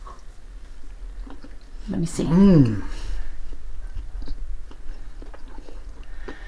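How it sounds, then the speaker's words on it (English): A crunchy keto holiday cookie is bitten and chewed, giving a brief soft crunch close to the mouth in the middle of the clip, with people talking around it. "I hear a little crunch on the outside."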